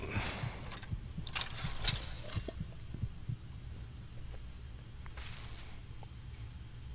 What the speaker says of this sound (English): The little heartbeat is another mod that I'm using. It's an early warning sign for your health getting low.